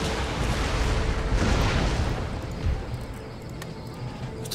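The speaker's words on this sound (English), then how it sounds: "those are rockets" Rocket artillery explosions in Empire Total War make a dense, loud wash of booms and crackling bursts, with a heavy surge in the first half that tapers into scattered pops.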